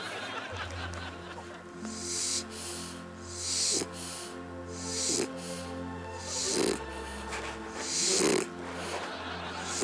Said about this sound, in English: Shar-Peis have a lot of loose skin, and this is the sound of it flapping as they breathe while they're sleeping.